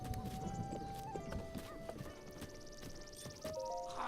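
Horse hooves clip-clopping in the video game Zelda: Breath of the Wild, a quick steady trot of close hoofbeats over light game music, with no talk.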